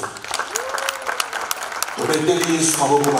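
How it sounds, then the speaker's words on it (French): A church congregation at a gathering of Congolese servants of God applauds for the glory of God, steady clapping that grows fuller and louder partway through, with voices and singing mixed in. "nous allons acclamer pour la gloire de Dieu"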